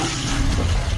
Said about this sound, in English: Those are your guts flying everywhere. That splashing sound.